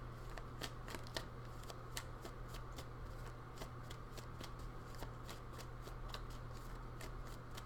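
Tarot cards being shuffled: a quick, even run of crisp riffling flicks, faint and close over a steady low background hum, no talking.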